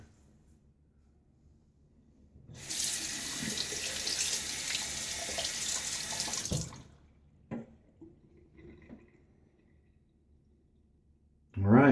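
A faucet runs for several seconds while a safety razor is rinsed during a wet shave, then shuts off, followed by a few faint clicks and a voice at the end.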